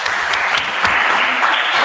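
Steady, dense applause from an audience at a talk on women in sport, filling the whole moment with even, continuous clapping and no voices on top.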